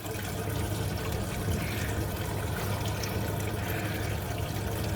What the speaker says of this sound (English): I'm turning my faucet on.